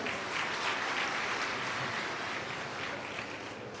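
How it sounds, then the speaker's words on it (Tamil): Sustained applause from an audience at a talk, a dense, even wash of many hands clapping at once, moderately distant and steady throughout without voices. "அதுக்கே ஒரு கைத்தட்டல் கொடுத்துடலாம்."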